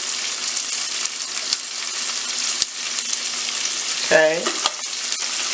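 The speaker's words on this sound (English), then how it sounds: "And we're just going to cook this asparagus until it's tender." Fresh asparagus sprinkled with dried parsley sizzles steadily in a hot pan, a close continuous hiss with a short scrape of stirring near the end and a brief spoken word.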